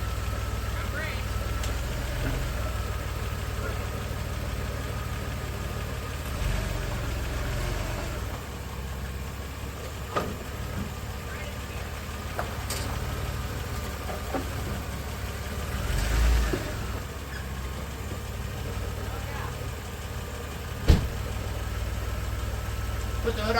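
A 1991 Dodge Caravan engine, revived after more than 19 years, runs at a steady idle with a low rumble throughout, with a few sharp knocks and clunks and occasional voices nearby.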